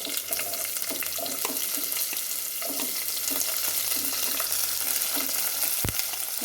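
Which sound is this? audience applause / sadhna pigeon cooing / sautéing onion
sautéing onion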